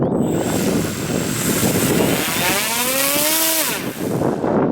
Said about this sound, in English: So I am turning on the flight motor.